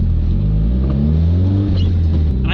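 A modified Miata built as a street car pulls hard, its engine and exhaust roaring in a loud, steady rising drone close by, with faint rubbing and knocking from the exhaust underneath.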